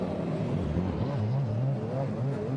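A race car at the 2011 Spa 24 Hours pulls away from the pit lane, its engine note rising and shifting through gears in a loud, close drone.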